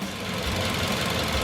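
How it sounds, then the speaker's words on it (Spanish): Car engine running steadily during a MAF sensor diagnosis, a continuous mid-low rumble with a slight knocking texture, close and even throughout with no clear rise in revs. "vamos a dar un acelerón fuerte de 0 a 4000 pisando el acelerador a fondo"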